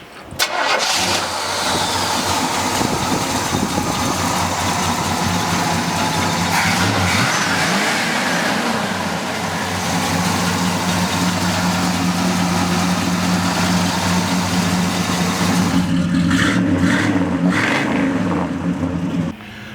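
A 1969 Pontiac GTO engine rumbles at idle, then revs up and down in loud, deep bursts close by, settling back to a throaty idle.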